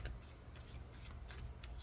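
Oracle cards are shuffled in a quiet room, giving a faint, continuous crisp rustle and light riffling patter with no voice over it.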